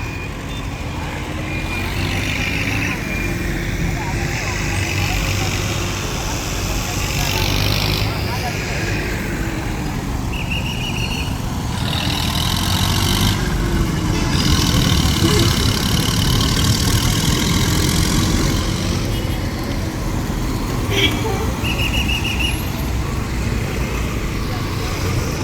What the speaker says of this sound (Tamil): வாகனங்கள் ரெண்டு பக்கமே நெரிசலாக இருக்கிறதால